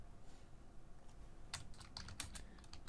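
Computer keyboard keys clatter in a quick, uneven burst while code is typed, faint at first and then a denser run of close clicks in a quiet room.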